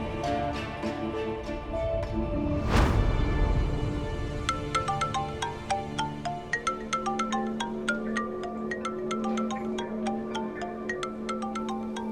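Mobile phone ringtone playing a repeating melodic tune over a steady background hum, moderately close and continuing to the end.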